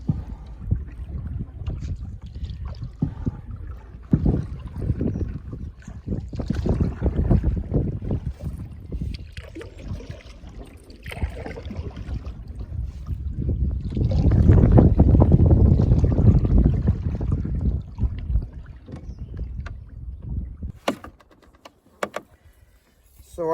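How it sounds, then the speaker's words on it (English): Wind gusts across a lake while canoeing, coming as uneven rumbling blasts that buffet the microphone, with the heaviest surge near the end before it briefly eases. "It's a bit windy today."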